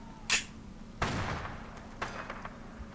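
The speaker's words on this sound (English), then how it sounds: "people are shooting each other right now for some god's damned reason" Scattered gunshots between people fighting in Fallout New Vegas: a sharp crack, then a heavier blast followed by a few softer distant shots, all over a low steady background hum.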